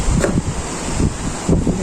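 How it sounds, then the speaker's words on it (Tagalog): Strong winter wind blows outdoors in dark, rainy weather, a loud steady roar with buffeting gusts hitting the microphone, no voices. "Lakas ang hangin."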